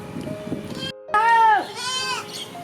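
A goat bleats once, a loud wavering cry rising out of the background, close by, with people talking around it.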